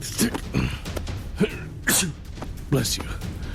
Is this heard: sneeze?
yes